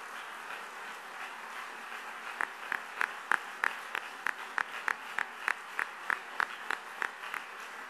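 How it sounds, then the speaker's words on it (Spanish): An audience at a public conversation with Mario Vargas Llosa applauds in a steady, dense wash, and after a couple of seconds a run of sharper, evenly spaced claps rises above it and keeps time to the end. "Fuerte aplauso."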